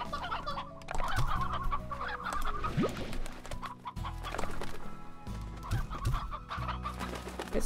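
Roosters in the video game Slime Rancher cluck and chatter in repeated bursts over a constant low background hum, with occasional louder squawks standing out.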